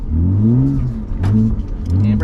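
A drift car's engine revs in rising and falling bursts, loud and close, with a short drop between pulls.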